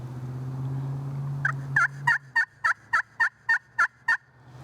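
Friction turkey call played with a homemade striker gives a run of about nine sharp, evenly spaced yelps, each rolling from a high note down to a raspy low end. The yelps are close and loud and follow a steady drone.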